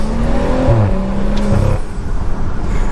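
A road car passes close by. Its engine drone rises, and the pitch of its whir falls as it moves past, over about two seconds, followed by a fading hiss.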